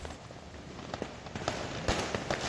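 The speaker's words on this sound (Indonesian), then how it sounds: "Sepanjang jalan Timika dipadati warga yang memasang petasan dan kembang api" Firecrackers and fireworks set off by crowds along the streets of Timika, Papua, popping in scattered sharp cracks at mid distance, with a louder burst of bangs near the end.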